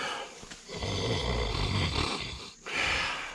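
A person imitates snoring, producing one long, rumbling, throaty snore, then a brief pause and a short follow-up breath, close and loud.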